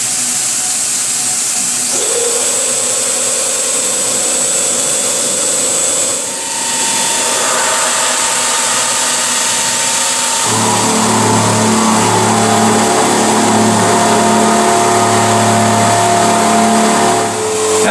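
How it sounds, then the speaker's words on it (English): A CNC mill runs with whining spindle tones and steady machine hiss that shift in pitch, then turn into a louder, rougher cutting drone partway through, close and continuous. "Now the mill's still running in the background,"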